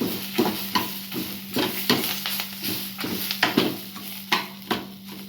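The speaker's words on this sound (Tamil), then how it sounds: "நல்லா கிறிஸ்பாகணும் கறிவேப்பிலாம்." Curry leaves frying crisp in hot oil for a rasam tempering, a steady sizzle broken by repeated scraping stirs at a moderate, close level, with no voices.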